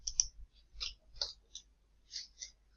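Keys on a computer keyboard are pressed for a Ctrl-P print shortcut in Microsoft Excel, a handful of quiet, sharp clicks spaced irregularly over near-silence.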